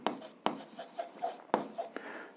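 Pen or chalk scratches out an algebra solution by hand in short, quiet strokes and taps, close and faint, with soft speech-like breath in the background.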